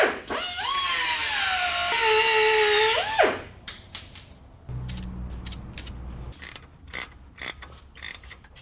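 A cutoff tool grinds through a small metal tab on a Jeep Gladiator, with a loud whining cut for about three seconds, then clicks, taps and clattering handling of parts and tools.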